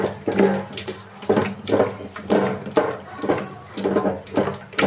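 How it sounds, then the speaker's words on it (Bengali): Fish being washed under a running kitchen tap, with water splashing into a sink in repeated rhythmic bursts as the fish is rubbed and rinsed, close and fairly loud, with no talking. "মাছটা ভালোভাবে খাসলে ধুয়ে নিব"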